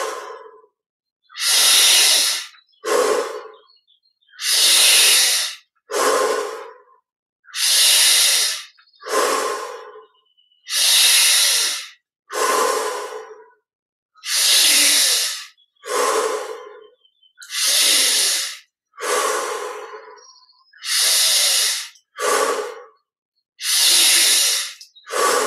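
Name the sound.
deep breathing, inhaling through nose, exhaling through mouth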